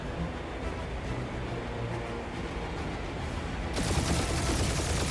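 Sustained rapid gunfire from a firefight in the Guardians of the Galaxy video game on PS5, a dense continuous fusillade of shots with loud background noise, swelling brighter and harsher toward the end.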